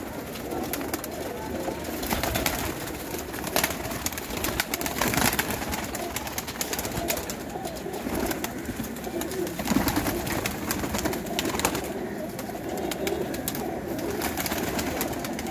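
Pigeons coo steadily from a rooftop loft after rain, the soft repeated calls layered over a busy outdoor background with faint distant noise throughout.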